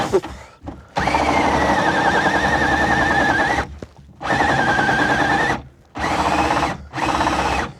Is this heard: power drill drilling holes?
yes